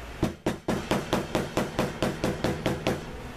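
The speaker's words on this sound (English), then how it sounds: "Gotta take my little hammer and beat the crap out of it." A small hammer pounds steadily on leather, about fourteen evenly spaced, dull thuds close up with no talking.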